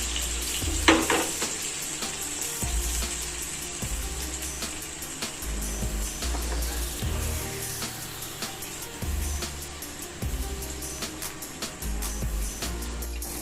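Four pieces of tandoori chicken fry in ghee on a large tawa, a continuous close sizzle broken by soft, regular low scraping and shuffling as the pan is moved.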